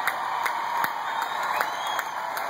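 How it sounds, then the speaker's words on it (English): A stadium crowd at a benefit concert applauds veterans, sustained dense clapping with distant cheering, steady and loud throughout. "Big round of applause for our veterans, our freedom providers right here"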